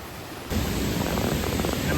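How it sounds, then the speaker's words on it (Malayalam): A large waterfall near a village forest roars from a distance as a steady, even wash of noise that swells in suddenly partway through and then holds without a break. "നമ്മളിവിടെ വലിയൊരു വാട്ടർഫാൾസ് ഉണ്ട്. ആ വാട്ടർഫാൾസ് കാണാനാണ് പോകുന്നത്. അപ്പോൾ അതിൻ്റെ സൗണ്ട് നമുക്ക് ഇവിടുന്ന് തന്നെ കേൾക്കാം."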